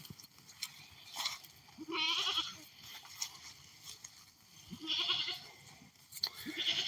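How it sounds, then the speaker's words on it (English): Goats bleat nearby in a weedy field, with a few loud, wavering calls spaced out over the seconds and quieter rustling and movement between them. No one talks. "Get the goats out of here."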